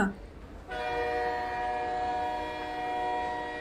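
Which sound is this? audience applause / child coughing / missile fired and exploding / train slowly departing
train slowly departing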